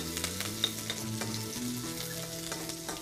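Onions frying and sizzling in a pan for a mutton and zaq curry, a steady close crackle with small pops and stirring scrapes over a continuous hiss, no voices.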